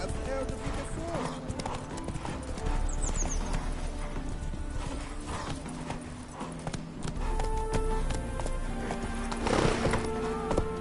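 Horse hooves clip-clop steadily through a game world in The Witcher 3, with a neigh or whinny rising out of the mix, all under ongoing character dialogue and a music and ambience bed.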